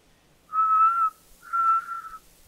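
A character whistles in the video game A Way Out, two clear sustained notes, each just under a second, separated by a short pause, close and loud over a quiet background.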